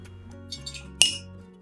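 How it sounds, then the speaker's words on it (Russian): Chicken eggs are cracked into a bowl for a zucchini and potato dish, with a sharp clink of shell against the rim near the middle, a couple of soft taps before it, and a steady background hum. "В миску разбиваю 3 куриных яичка."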